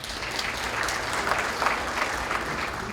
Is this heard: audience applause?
yes